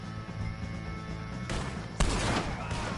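Video game gunfire while shooting O'Driscoll gang members in Red Dead Redemption 2, with a couple of loud, sharp shots and a boom near the end over the ambient game sound.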